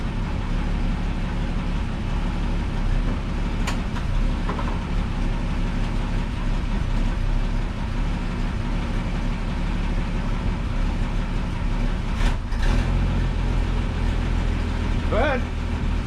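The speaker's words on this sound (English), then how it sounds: "We'll give it a little bit of a rev." A 1961 Ford Falcon Delivery's engine runs close by with a steady, low, fairly quiet drone and only a slight rise in revs. A few faint clicks can be heard, and there is no clear talk.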